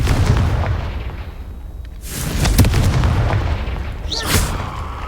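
A Confringo fire spell in Hogwarts Legacy lets out a loud booming blast over steady game rumble, followed by a second burst of crackling impact near the end.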